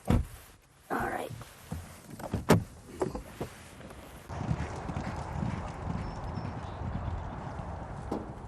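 Hooves of racehorses breezing at a Breeders' Cup morning workout, a run of sharp clip-clops near the start giving way to a steady rushing background.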